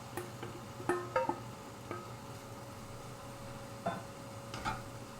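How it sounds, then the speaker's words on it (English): A faint, steady sizzle of vegetables frying in a pan, with occasional clicks and taps of stirring on top. "Ooh, there's a good sizzle."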